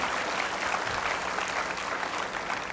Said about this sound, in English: Again, a round of applause, both the hall, that Mini Bharat here present with us.